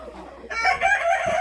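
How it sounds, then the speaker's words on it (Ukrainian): Chickens cluck and squawk close by, a short burst of loud, bright calls after a quiet moment. "Тут живе дві курки, поки що з качками."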